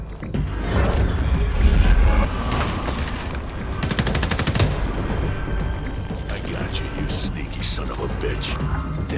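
Gunfire in Homefront: The Revolution under sniper attack, with dense loud shots and impacts over a rumbling battle, while characters speak through much of it.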